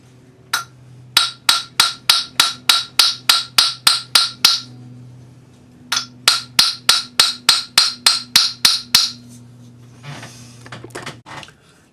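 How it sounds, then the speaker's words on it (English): A hammer strikes a metal bangle during forging, blows landing on the side with the round face of the hammer: two quick, evenly spaced runs of about a dozen sharp, ringing metallic hits, close and loud, with a short pause between the runs. "we're hammering on the side with the round part of the hammer in between the marks"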